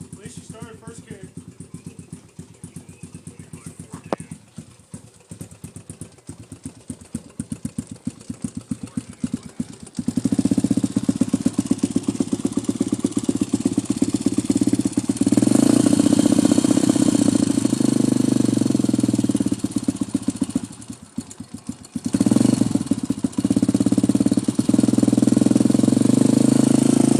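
A 1987 Honda TRX250X ATV engine idles after a cold start, a rough low putter that rises to a loud steady idle with a brief dip midway.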